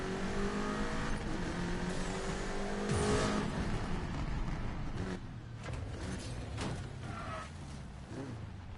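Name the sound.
Subaru WRX car engine in video game Need for Speed Payback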